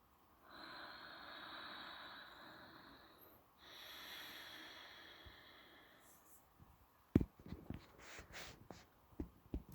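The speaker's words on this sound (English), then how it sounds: "We're going to start with Ujjayi breath here, breathing in and out through the nose in an even rhythm" Slow Ujjayi breaths drawn through the nose during a hatha yoga session, two long, soft, ocean-like throat hisses, followed by a string of quieter clicks and shuffles.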